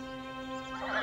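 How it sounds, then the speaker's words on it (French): A horse whinnies as it rears after jumping a fence, a brief neigh swelling at the end over a steady tonal hum, moderately faint with no talk. "je fais cabrer le cheval et je repars au galop vers la plaine"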